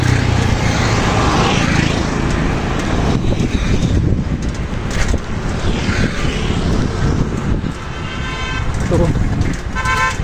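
Busy road traffic passes a cyclist on an Indian road, with vehicles rumbling by and horns honking repeatedly, close and loud, under wind buffeting and someone talking.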